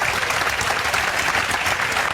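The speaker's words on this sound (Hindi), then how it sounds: "इनके लिए जोरदार तालियां बजा दो" Dense, steady audience applause fills a celebration honoring a student's government job success, continuous and loud throughout with no break, crowd hands clapping close and evenly.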